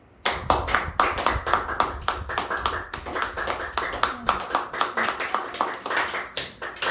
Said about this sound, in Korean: 자, 우리 다 같이 박수 한번 칩시다